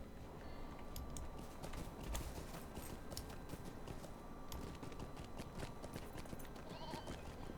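Horse hooves clip-clop steadily in The Lord of the Rings Online near Bree's west gate, a dense continuous trotting rhythm with a whinny, sounding close and even throughout.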